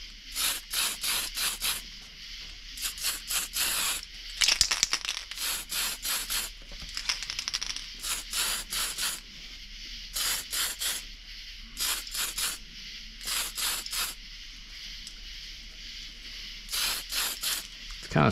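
Candy apple red paint is sprayed from an aerosol can onto a nitro RC buggy body in short, even hissing bursts, close and fairly loud, separated by brief pauses throughout.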